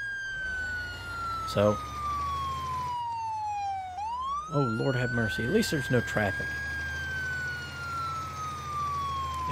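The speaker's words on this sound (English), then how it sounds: "the siren on this is not as bad as the siren in the other game" Loud wailing emergency vehicle siren in the pre-alpha firefighting game Into The Flames, sweeping down and rising again steadily while someone talks over it.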